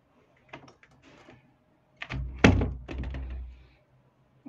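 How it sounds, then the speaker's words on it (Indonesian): A single solid door thump with a short rattle of the latch, heard close in an otherwise quiet home recording studio room, preceded by a few light shuffling sounds. "Sekarang saya masuk dan saya tutup pintunya."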